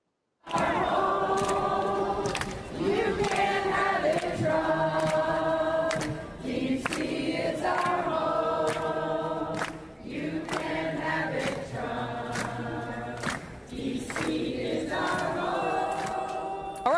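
A large protest crowd sings and chants in unison outdoors during a Trump crime crackdown announcement, with rhythmic repeated phrases and tonal melody carrying steadily for the whole stretch, loud and close with brief dips between lines.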